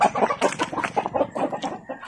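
Chickens cluck beneath a raised chicken house, making a busy overlapping chatter of short, rhythmic clucks. The birds are close and fairly loud, with no talking over them.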